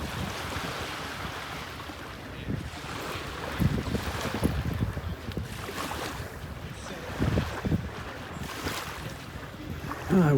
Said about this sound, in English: Getting a little puff of wind every now and then.